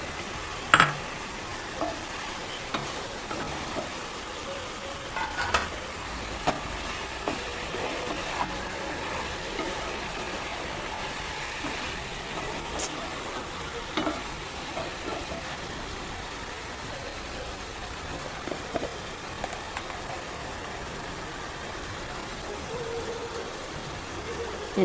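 Tomatoes stirred and frying in a pan for chicken curry, a soft continuous sizzle with occasional sharp clinks of a spoon against the pan, while someone talks over it.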